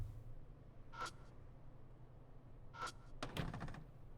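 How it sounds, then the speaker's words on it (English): Two short rattling pulls on a locked door handle in the Spirit Hunter video game, then a heavier thunk, each brief and distinct over a quiet low hum. "I pull the door just in case."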